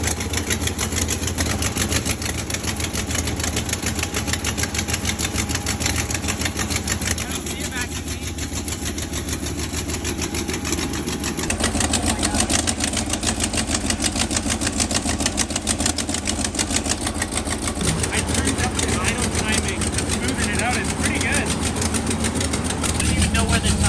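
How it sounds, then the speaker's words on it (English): A turbocharged 383 Magnum big-block V8 in a Dodge Coronet, on its break-in day, holds a loud, steady high idle throughout, with a slight change in tone partway through and people talking over it. "making this thing idle high"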